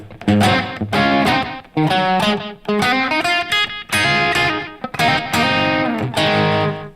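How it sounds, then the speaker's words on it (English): An electric guitar plays a bright, slightly distorted riff with a short, tight slapback echo trailing each note, loud and up front. "Let's just try the slapback now."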